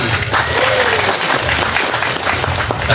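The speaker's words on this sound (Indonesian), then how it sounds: "Tepuk tangan santriwati." Loud, dense applause from female students at a religious lecture gathering, a continuous wash of many hands clapping close by with a few scattered voices.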